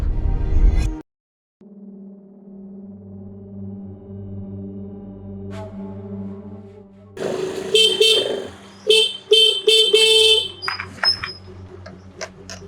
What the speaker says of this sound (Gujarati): આ ક્યારનો હોર્ન મારું છું, સાઈડમાં ખસાતું નથી.